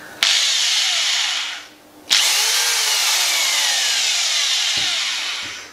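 An electric screwdriver whirs loudly and close by in two runs, a short burst and then a longer one that slowly winds down, with a brief gap of silence between them.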